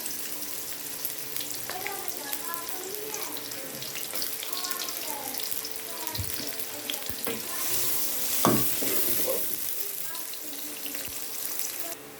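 Onions fry in hot oil for a matar gosht curry, giving a continuous close, watery hiss with scattered crackles and a few clinks of utensils.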